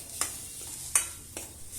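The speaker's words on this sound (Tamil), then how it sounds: "இது எண்ணெயிலேயே நல்லா ஃப்ரை ஆகணும்." Coriander and chili powder stirred and fried in oil for a sankara fish curry, three sharp scraping stirs of a spoon against the pan over a faint steady sizzle.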